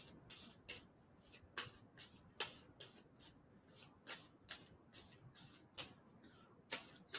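A tarot deck is shuffled by hand, producing faint, close papery riffles and rubs that repeat roughly every half second, alone without speech.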